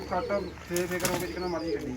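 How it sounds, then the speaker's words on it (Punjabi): Pigeons being released and flapping their wings as they take off, a burst of wingbeats with soft cooing nearby, while people talk over it. "ਮੈਂ ਛੱਡਦਾ ਕਬੂਤਰ ਬਾਹਰ"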